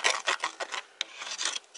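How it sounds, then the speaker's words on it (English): A screwdriver scrapes crusty deposits off the top of a narrowboat stove chimney in quick, rough, rasping strokes, close and fairly loud with short gaps between them. "I'm cleaning off some of the crusty bits at the top of the chimney"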